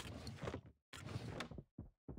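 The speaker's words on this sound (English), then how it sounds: "Sounds like something opened." Something slides open in the puzzle game Escape Simulator: two broad, full scraping sweeps followed by two short clunks, all near and loud, with no voices.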